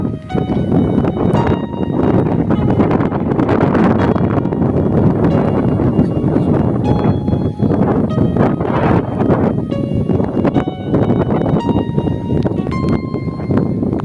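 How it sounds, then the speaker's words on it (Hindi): Strong wind blowing across a burning forest hillside near a village, a loud continuous roar with gusty buffeting on the microphone that never lets up. "अभी आग फिर लग गई है, क्योंकि हवा चल रही है"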